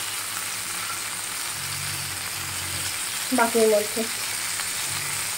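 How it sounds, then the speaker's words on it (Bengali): Pointed gourd (potol) frying in oil in a pan, a steady soft sizzle running throughout, with a few brief clinks near the middle and a short spoken phrase over it. "পটলটা কিন্তু খুব ভালো মতো ফ্রাই হয়েই গেছে"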